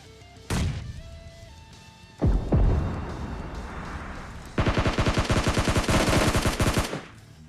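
Rocket launcher blast followed by rapid automatic gunfire in a battle royale video game, with a sharp explosion, a second heavy crash, then a sustained burst of loud, evenly spaced shots.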